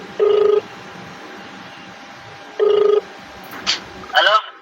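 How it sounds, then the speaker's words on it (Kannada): Telephone keypad tones for placing a phone call: two sustained steady beeps about two seconds apart, followed by short brighter chirps, with faint background noise and no talking. "ಅವನಿಗೆ ಫೋನ್ ಮಾಡ್ತೀನಿ"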